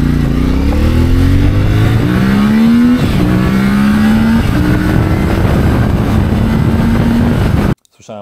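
CFMoto 450 MT motorcycle accelerating on the road, close engine note climbing through several gear changes with a rising whine, wind noise throughout, ending abruptly.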